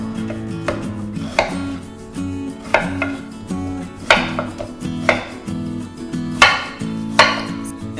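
Knife chopping potatoes into small pieces on a cutting board, with a steady series of sharp, close, fairly loud chops; no voices.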